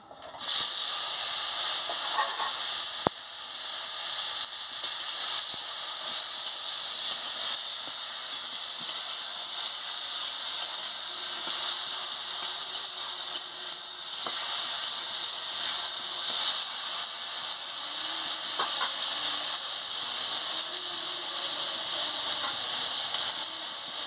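Dried red chillies, panch phoron and vegetables dropped into hot oil, giving a steady, loud hiss and sizzle that runs unbroken and alone for the full length, with a couple of faint clicks.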